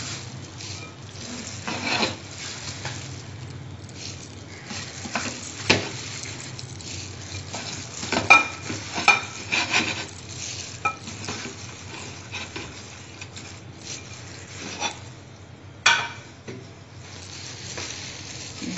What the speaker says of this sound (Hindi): दाल और चिकन मिक्स कर लें